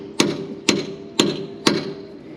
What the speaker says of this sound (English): he gets all happy with the hammer